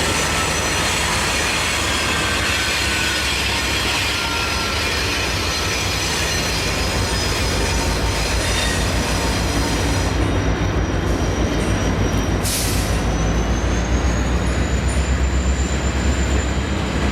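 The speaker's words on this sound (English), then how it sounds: "shoving hard on train H60" A locomotive shoves freight train H60. The rail cars give a continuous loud roll with wheel squeal and clatter, and a sharp, brief screech comes near the end.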